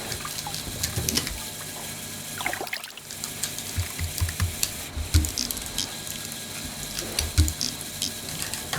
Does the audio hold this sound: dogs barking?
no